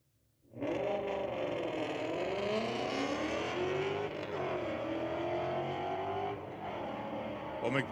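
A Ford Mustang and a GMC launching side by side in a street-legal drag race at Mission Raceway Park, engines roaring loud and steady as they pull through the gears, with a commentator talking over the run.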